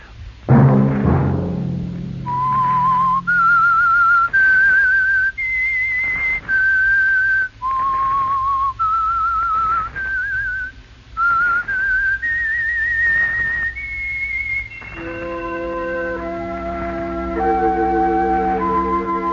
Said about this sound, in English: Let that whistle be your signal for the Whistler each Sunday night at this same time.